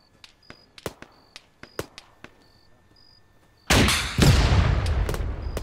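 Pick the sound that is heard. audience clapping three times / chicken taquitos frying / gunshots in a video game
gunshots in a video game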